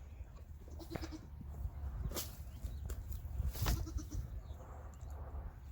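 A young miniature goat on a farm bleats faintly a couple of times amid soft outdoor background noise, with no talking.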